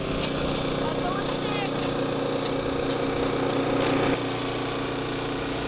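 A wood chipper drones steadily and close on a homestead, a constant engine hum with harsh grinding texture and occasional sharper crackles as material feeds through, continuous throughout.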